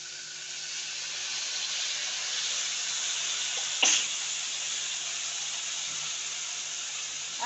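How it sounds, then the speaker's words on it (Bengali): Water added to greens cooking in a hot pan sets off a steady, bright sizzling hiss, with one sharp clatter partway through before the hiss carries on evenly. "জল দিয়ে দেবেন।"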